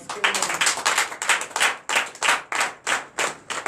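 A church congregation claps in a steady rhythm of sharp, loud, close hand claps, giving acclamation to Jesus during a night service of deliverance and prophecy.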